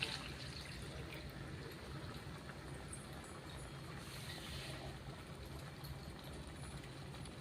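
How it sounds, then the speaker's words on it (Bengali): Water is poured into a pan of restaurant-style paneer butter masala, giving a faint, steady wash of liquid over a low constant hum, continuous from start to end with no voices. "এবারে আমি জল দিয়ে দিচ্ছি।"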